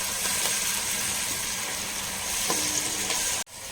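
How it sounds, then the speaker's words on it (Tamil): Ginger garlic paste sautés in a hot pan with a dense, steady sizzle and occasional stirring scrapes, close and loud, cutting off abruptly near the end. "இந்த இஞ்சி பூண்டு பேஸ்ட்டு பச்சை வாசனை போகிற அளவுக்கு வதக்கலாம்."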